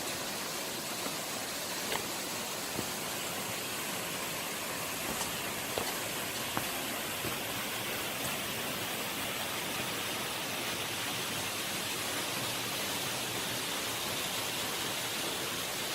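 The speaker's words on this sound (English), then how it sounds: "Now I'm approaching to the Yeogung-popo waterfall" About 10-metre Yeogung-popo waterfall on Juheulsan Mountain in Mungyeong, Korea, a steady broadband rush of falling water heard close and continuous throughout, with no speech.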